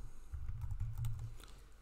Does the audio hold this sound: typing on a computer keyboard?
yes